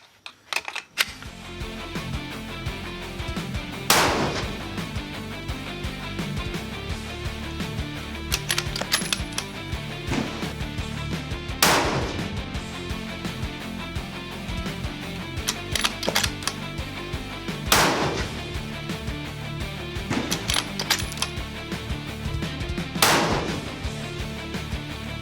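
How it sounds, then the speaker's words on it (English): Tikka T3x Tac A1 rifle fired from a bipod outdoors: five sharp, loud shots spaced a few seconds apart, each a sudden crack with a short ringing tail over steady background noise. "we're going to go ahead and shoot the second bipod round now"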